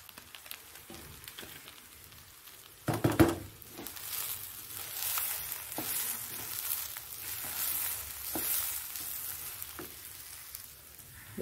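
Food sizzles steadily in a pan after turmeric is added, with intermittent scraping and stirring strokes and one louder clatter early on, no voices.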